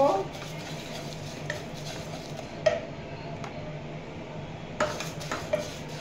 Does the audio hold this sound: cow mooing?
no